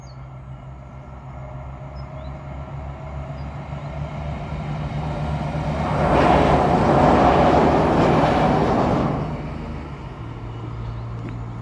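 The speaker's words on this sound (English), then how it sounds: "And now there's another train." A train passes near a steel-and-wood railway bridge, its rumble and rolling rattle swelling to a loud peak midway and then fading while a low hum continues underneath.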